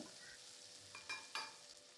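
Onion and garlic frying in a pan, a faint, steady sizzle with a few soft scraping stirs from a spatula.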